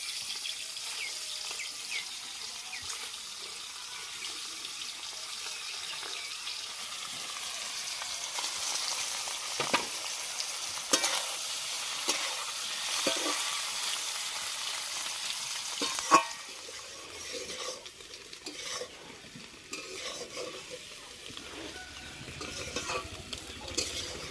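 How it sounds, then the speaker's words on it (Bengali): Eggs fried in mustard oil in a pan for a Bengali cauliflower egg dish, giving a steady sizzle with scraping and stirring clicks throughout and a sharper clatter near the end, no talking. "এখন আমি এই ডিমগুলো ভেজে নেব।"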